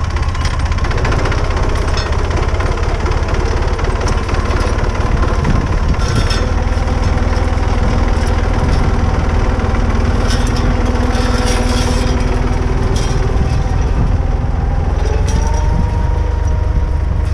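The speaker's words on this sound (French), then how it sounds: "on utilise le tracteur avec un châssis installé à l'avant" A tractor fitted with a front-mounted frame runs in a vineyard during winter uprooting work, a loud, steady engine rumble with a knocking chug that continues throughout at close range.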